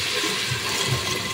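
Water pouring into a cooking pot of beef skin bulalo, a brief steady rushing gush heard close up without any talking.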